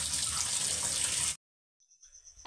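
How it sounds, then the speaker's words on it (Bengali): Chow mein noodles being rinsed and cooled under a running kitchen tap, a steady rushing stream of water that cuts off abruptly, followed by a short quiet stretch and faint drips and splashes. "এবার কলের জলে এটাকে ঠান্ডা করে ধুয়ে নিলাম।"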